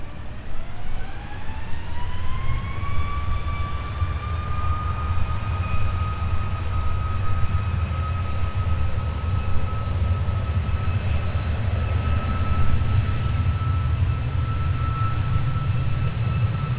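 Jet airliner taking off at Minneapolis–St. Paul airport, a steady loud roar with a rising whine that climbs and levels into a sustained tone, continuous throughout with no voices.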